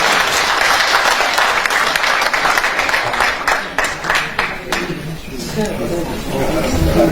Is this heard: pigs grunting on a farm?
no